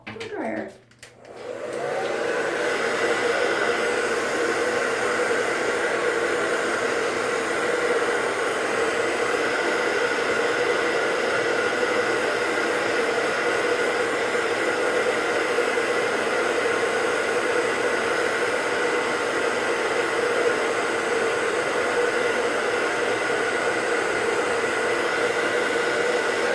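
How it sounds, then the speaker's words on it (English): A handheld blow dryer runs continuously at close range, a steady loud broadband whoosh after a brief start, used to dry makeup at the waterline. "I'm actually gonna break out the blow dryer"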